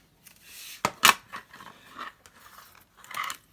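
Scissors snip sharply through tape a couple of times, followed by soft crinkling and handling noises of tape nearby; quiet, no talking.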